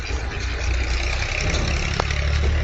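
A tractor engine idles on a broiler farm, a steady low rumble that stays even and fairly close throughout, with no voices over it.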